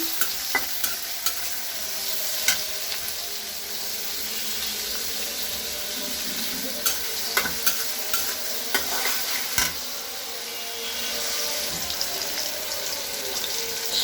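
Chopped onion frying in a pan with green chillies, with steady broadband sizzling and repeated scraping stir strokes throughout; close and continuous, with no talking.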